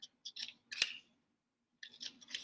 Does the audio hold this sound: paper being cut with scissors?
yes